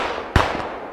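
One loud, sharp gunshot-like bang during a staged battle scene, close and abrupt, with a fainter second crack right after over a steady background hiss.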